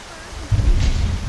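Heavy rain and a deep thunder rumble in modded Skyrim (Nolvus V6); a steady hiss of rain swells into a loud low roll about halfway through and carries on to the end.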